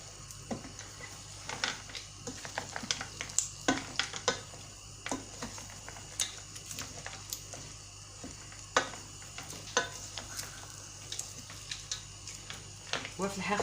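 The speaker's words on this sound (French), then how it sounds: "on va pas arrêter de touiller. Il faut toujours remuer" Caramel cream is stirred in a pot with a utensil, giving soft irregular scraping and tapping strokes repeated through the clip, fairly quiet under a low background hum, with a voice speaking at times.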